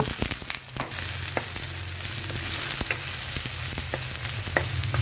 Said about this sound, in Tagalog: Igisa na natin ang bawang. Ilagay ang sibuyas at luya.